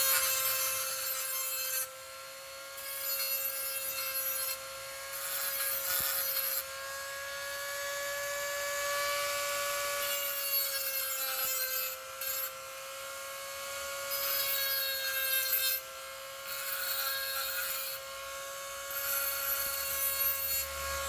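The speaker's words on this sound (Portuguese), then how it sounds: "foi necessário lixar os cantos para remover as rebarbas." Sandpaper rubbing the corners of steel transformer laminations to strip off burrs, a steady scratchy abrasion running continuously for about twenty seconds in short repeated strokes with brief pauses, close and fairly quiet, with no talking.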